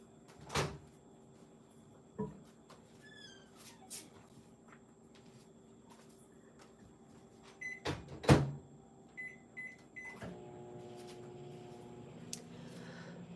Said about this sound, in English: we're gonna add these back in the microwave